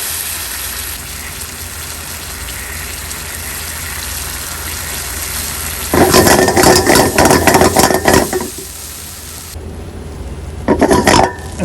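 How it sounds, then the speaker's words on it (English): Loud, steady hiss of cream cheese sizzling in a hot pan being seasoned, broken by a few bursts of harsher crackling and scraping near the end. "And you can just see it start to sizzling."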